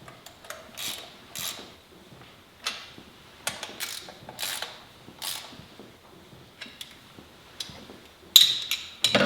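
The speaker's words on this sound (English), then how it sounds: "we're going to go ahead and tighten it down with the old-fashioned 3/8 drive socket ratchet" A 3/8 drive socket ratchet tightens carburetor nuts in a crisscross pattern, giving repeated short bursts of clicking pawl ratchets with brief pauses between strokes, close and clear.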